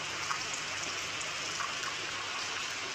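Steady rain falls in a village, a soft, even wash of drizzle with faint scattered drops, moderately quiet and continuous with no voices.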